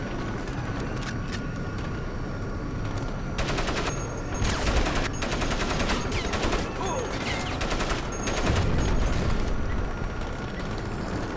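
A mounted machine gun in Crysis fires in long sustained bursts, loud and steady, with some pauses between the runs and a low rumble of explosions in the background.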